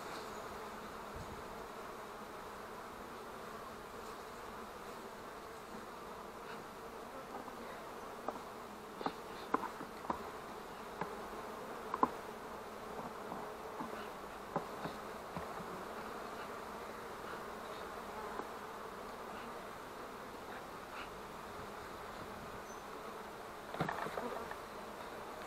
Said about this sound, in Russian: И оказывается, здесь столько пчел.